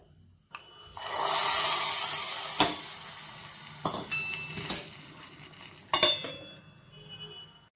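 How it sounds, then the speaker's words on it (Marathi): Hot oil tempering with cumin is poured over a pot of coconut curry with a loud sizzle that hisses on, broken by a few clinks of a spoon against the pan. "आता ही फोडणी मी घालते कढीवर"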